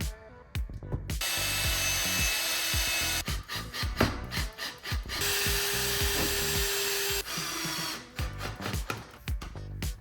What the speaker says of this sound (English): Now we can drill everything into place.